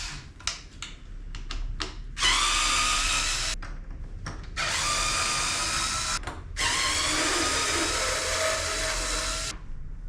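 Screws being backed out of a 2022 BMW S 1000 RR's side panels with a standard Torx driver: three long, steady whirring bursts with short clicks and pauses between them, close and fairly loud, and no talking.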